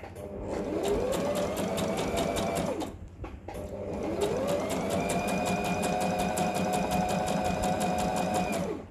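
A sewing machine stitches along the curved edge of a men's koko shirt facing in two steady runs, a brief pause separating a shorter burst from a longer one, close and mechanical with no talk.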